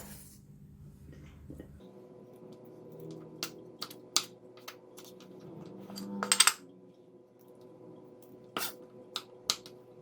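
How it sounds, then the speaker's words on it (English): A knife cutting French beans into slanted one-inch pieces on a board, giving scattered sharp taps and clicks at an irregular pace, close and fairly quiet over a faint background hum. "And then I'm going to cut it into slanting about one inch length"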